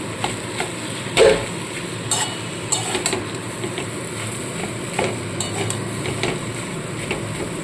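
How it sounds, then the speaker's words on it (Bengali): Boiled potatoes being mashed in a pan with a spatula for a stuffed capsicum chop filling: repeated scraping and tapping strokes against the pan over a low sizzle, close and fairly loud, with no talking. "এবার এইভাবে খুঁজির সাহায্যে আমি আলুগুলোকে কিন্তু একদম ভালো মতো ম্যাশ করে দেবো"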